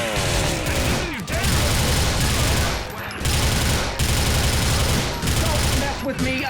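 Continuous automatic gunfire in the video game GTA Vice City: rapid, dense bursts of shots that run almost without a break, loud and close, with short pauses between volleys.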